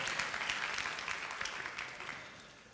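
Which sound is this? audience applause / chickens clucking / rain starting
audience applause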